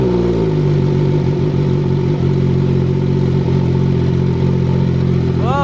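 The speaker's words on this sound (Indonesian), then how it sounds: "Yuk kita dengerin suara knalpot dari Bruno." A hybrid motorcycle exhaust idling loud and close, a steady low rumble that holds without revving.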